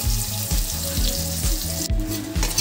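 Chopped onion and a halved bay leaf crackle in hot oil for a Bengali prawn curry, a loud, close sizzle with rhythmic pulsing bursts of spatter throughout, no voices.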